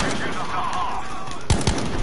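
Rapid bursts of video game gunfire crackle through the clip, with a sharper cluster of loud shots near the end over a steady background.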